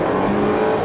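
A BMW 125i M hatch with 218 horsepower in Sport Plus mode under a light press of the throttle, a loud continuous engine drone and rising rev heard from inside the car with no talking.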